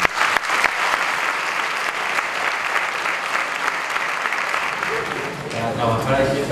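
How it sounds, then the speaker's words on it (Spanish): Sustained audience applause in a concert hall after a band concert, dense steady clapping filling the whole stretch, with a faint musical tone creeping in near the end. "Un aplauso para ellos."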